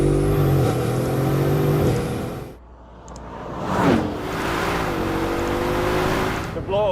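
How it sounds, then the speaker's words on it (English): A Bugatti car engine at very high speed, a steady loud roar that cuts out into a sharp blow-off valve hiss and whoosh, then builds again, with people talking over it. "The blow-off valve is crazy"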